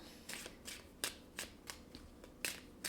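Tarot cards being handled and shuffled, a series of soft, quick riffling swishes and snaps repeating every half second or so, close and quiet with no talking.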